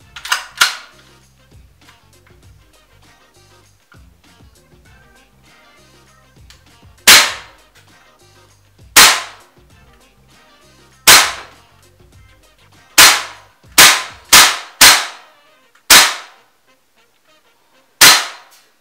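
SMG 8 airsoft gun powered by ASG Ultrair gas firing 0.25 BBs, two faint pops followed by about ten loud sharp isolated shots, each cracking then decaying, spaced irregularly.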